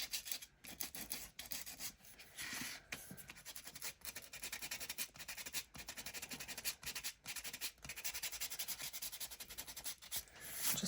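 Sandpaper rubs over paper for a junk journal in quick back-and-forth strokes, a close, dry scratching rasp repeating steadily without talk.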